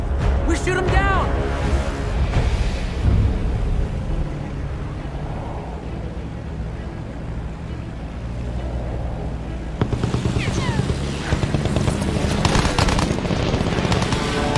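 Battlefield 1 combat against German troops: bursts of machine-gun fire and booming shots over engine rumble, with a voice talking over parts of the action.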